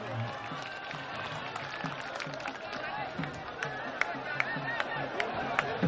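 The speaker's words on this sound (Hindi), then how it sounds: "जोरदार एक बार ताली बजाइए आप लोग।" A crowd at an outdoor village wrestling match claps in a loose rhythm, moderately distant, with sharp individual claps and chatter mixed through, and a voice speaking over it.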